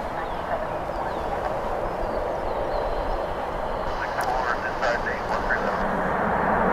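An American Eagle Embraer 175 airliner landing at DFW airport on a morning plane-spotting session, heard as a steady, broad roar that stays loud throughout and swells slightly toward the end.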